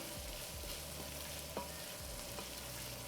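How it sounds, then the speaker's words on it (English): Turkey chili sizzles steadily in a pot and is stirred, with soft scraping taps against the pot. The frying noise is close and even, and no one speaks. "Can you guys hear those sizzles or what?"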